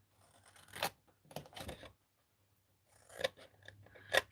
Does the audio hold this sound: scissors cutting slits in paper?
yes